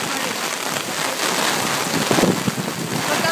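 Heavy rain falls close to water in Tokyo, a dense, loud, steady hiss with some wind buffeting the microphone and a few sharper splashes near the end.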